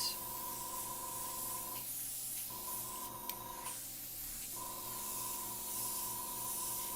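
Airbrush spraying onto Pastelmat in a studio setting, a soft steady hiss heard faintly alongside a quiet intermittent electronic hum that cuts out briefly twice, with no talking.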